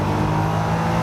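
A Jaguar XJ220 engine roars at a steady high pitch under full throttle in second gear, loud and continuous with a deep droning hum.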